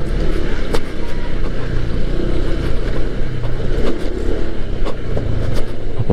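A Honda ADV 160 scooter engine drones steadily under throttle while touring, loud and close with heavy wind buffeting throughout and no voices.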